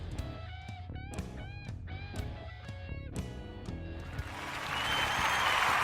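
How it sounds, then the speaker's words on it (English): Crowd cheering and applause swell up at the end of a short musical jingle, the clapping rising into a loud wash of noise over the final seconds. "the crowd goes wild"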